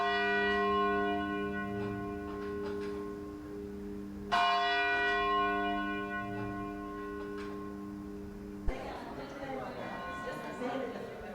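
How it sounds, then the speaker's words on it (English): A church bell rings, started by a button, with sustained resonant tolls that decay slowly; a second strike lands midway, then the ringing gives way to nearby shuffling and room noise. "So this is what initiates the bell ringing."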